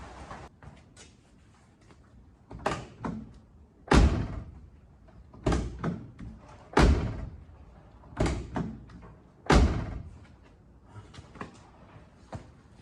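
Ford XC Falcon car door opened and shut repeatedly, a series of loud close slams and thuds with latch clicks and rattles between them, roughly every one to two seconds.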